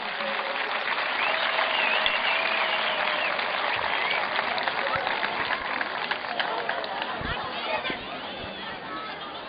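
An audience gives a long round of applause for Mustafa Bey at a bodyguard training demonstration, steady dense clapping over a background of crowd chatter.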